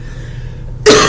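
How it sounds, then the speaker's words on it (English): A person recovering from a cold gives one sudden harsh cough near the microphone after a quiet moment. "I just got off a cold, so I'm surprised I haven't coughed earlier."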